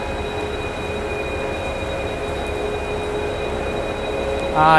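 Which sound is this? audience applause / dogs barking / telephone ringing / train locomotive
train locomotive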